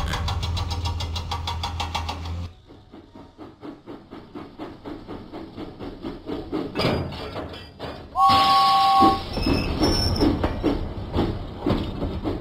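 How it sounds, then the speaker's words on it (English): Steam engine puffing in a Thomas & Friends video game, rhythmic chuffs building into a run of beats with game sound effects and a brief whistle-like tone layered over them. "James pumped his pistons and puffed out of the docks"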